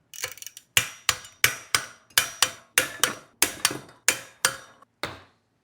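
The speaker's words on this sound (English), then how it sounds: "And I'll just torque these bolts up to 25 Nm." A torque wrench clicks sharply as bolts on a 2025 Surron Ultra Bee electric motorbike are tightened, about a dozen crisp ratcheting clicks at a fairly even pace, close and alone.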